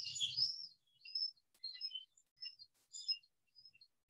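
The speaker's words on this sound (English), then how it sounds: "you can hear the chick call in the background" Recorded lesser yellowlegs chick call played through a speaker outdoors, a series of short high chirps repeated every half second or so, thin and moderately faint against a quiet background.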